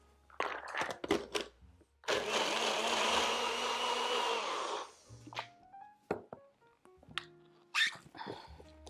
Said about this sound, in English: we're just going to blend this until those raisins and cashews are completely pulverized and you have a really silky smooth cheese sauce